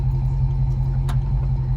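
An old Mark 3 Toyota Supra, a barn find, turns over without catching: a steady low engine rumble with regular pulsing, loud and close, with one brief sharp click midway.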